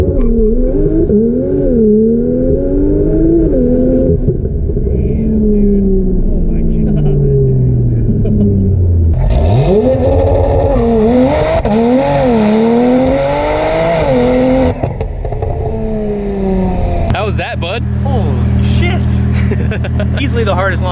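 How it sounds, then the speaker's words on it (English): A Porsche Turbo street car launches hard and accelerates toward 147 mph, its engine note climbing through rising sweeps with gear changes and a loud, sustained roar, while voices exclaim excitedly over it. "Easily the hardest launching car I've ever been in."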